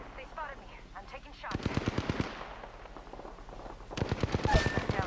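Two rapid bursts of automatic gunfire in Apex Legends, sharp repeated shots at a moderate distance, with in-game voice lines and background game sounds between the bursts.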